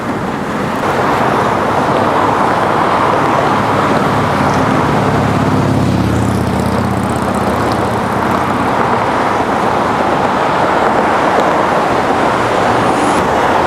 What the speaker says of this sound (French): ça tremble avec les voitures, avec le bruit des sirènes et puis le vrombissement des voitures